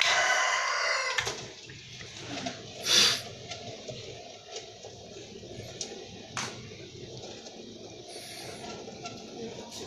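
Chickens clucking and a rooster crowing at an egg hatchery, clear nearby crowing and scattered clucks over a steady background hum, with some talking.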